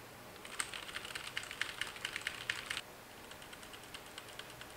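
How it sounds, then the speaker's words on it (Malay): Rapid clicking of keyboard keys typed in quick bursts for a few seconds, then slower, fainter taps, close by and with no voices. "bunyi keyboard"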